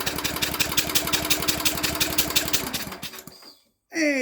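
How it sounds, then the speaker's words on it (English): An old Briggs and Stratton generator engine, not run since the 1980s, turns over on a dyno with a fast, steady mechanical chugging that cuts off abruptly before a voice speaks. "Hey, it whirls over on the dyno."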